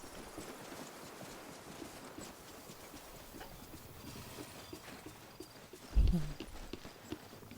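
Horses in Disney Dreamlight Valley clip-clopping at a walk, a soft steady run of hoof clops with a sharper thump near the end, no talk over it.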